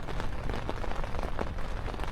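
Steady rain falls on a remote campsite in the morning, a dense, close patter that keeps an even, unbroken roar from start to finish with no voices.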